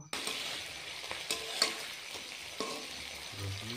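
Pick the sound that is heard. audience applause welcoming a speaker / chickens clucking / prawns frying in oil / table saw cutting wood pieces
prawns frying in oil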